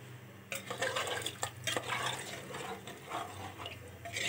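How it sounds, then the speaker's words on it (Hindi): Water poured steadily into a pot of rice while making matar pulao, a continuous splashing, gurgling pour that starts abruptly and runs to the end, close and fairly loud. "अब इसमें डालूंगी मैं पानी, आप अपने हिसाब से पानी डाल सकते हैं।"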